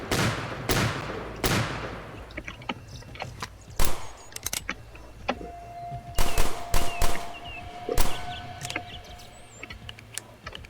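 Gunfire in a Roblox Western-style shooter game, a series of sharp, loud shots in irregular bursts and single cracks, some rapid and clustered, with a faint tone lingering beneath.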